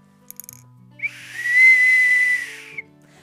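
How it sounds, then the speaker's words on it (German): A single loud, sustained high whistle held for about a second and a half, sharp and piercing, like a fan's whistle at a stadium, with some faint background noise around it. "Pfeifen."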